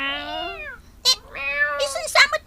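A cat meows loudly and repeatedly up close, drawn-out wavering cries followed by shorter, choppier yowls, with faint background noise and no talking.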